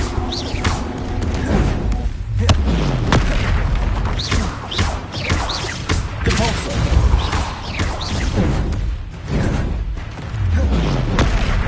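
Bombarda blasting-spell explosions in Hogwarts Legacy, a series of heavy booms and crashes repeating over a dense backdrop of game sound, with voices heard in between.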